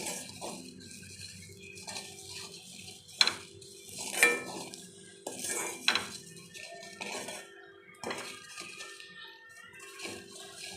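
Caramel being stirred in a pan for pudding: a utensil scrapes and clinks against the metal in irregular strokes, with soft bubbling between the sharper knocks, heard up close and fairly quiet.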